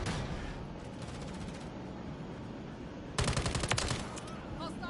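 Automatic gunfire in Modern Warfare 3 breaks out as a sharp rapid burst of shots late in the clip, loud and close, after a stretch of quieter game noise and faint crackling.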